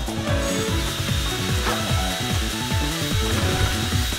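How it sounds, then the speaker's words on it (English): A buzz saw from the video game Sonic Generations whirs steadily, giving a continuous grinding buzz with rapid rhythmic pulses and repeated descending sweeps, loud and alone. "What does this buzz saw even do?"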